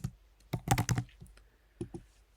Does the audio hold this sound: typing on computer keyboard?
yes